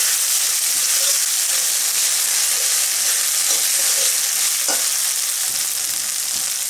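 Spices frying hard in a pan for chicken with bottle gourd, a loud, continuous hiss and sizzle with occasional faint stirring knocks.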